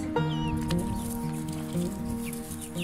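Chickens cluck and murmur close by in a steady, busy chorus, with a few higher squawks over a constant low background hum.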